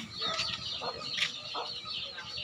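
Chickens cluck in short, scattered bursts while being fed in the afternoon at a rural yard, with faint rustling and soft low thumps throughout, heard close but at modest volume.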